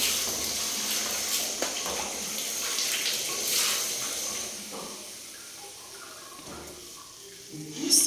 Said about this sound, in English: we are flushing the toilet